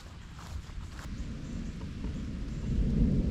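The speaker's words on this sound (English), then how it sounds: "Oh, and it's really raining." Heavy rain pours steadily outdoors on a disc golf course among trees, a dense broadband wash that swells louder toward the end, with a low rumble like distant thunder underneath.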